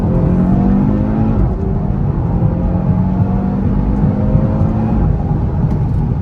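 A loud car engine roars steadily under heavy throttle, a dense rumbling drone with a climbing tone and a shift near the end.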